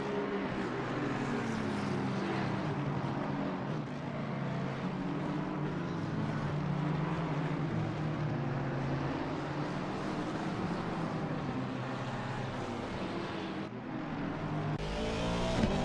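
Race car engines drone steadily at Paul Ricard, several cars circuiting close together with a continuous loud roar and a sustained, slightly varying pitch throughout.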